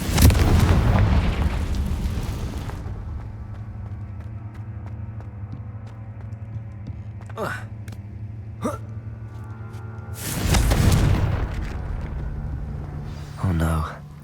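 In the game Hogwarts Legacy, Confringo spells burst as loud booming explosions, one at the start and another around the middle, with quieter magical effects and bits of talk in between.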